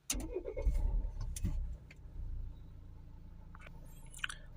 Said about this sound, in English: is it going to say start the engine up